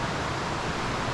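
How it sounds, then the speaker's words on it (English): A brook at a Maine hunting camp, rushing strongly in a dense, steady broadband wash that stays loud and close throughout, with no voices over it. "this brook is really flowing"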